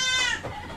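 A goat in a livestock pen lets out a single loud, close bleat that wavers and falls away, followed by quiet farm background.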